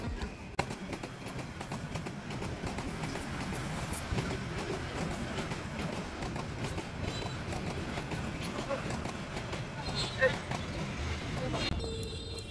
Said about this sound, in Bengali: ট্রেন তার গন্তব্যের উদ্দেশ্যে রওনা দিচ্ছে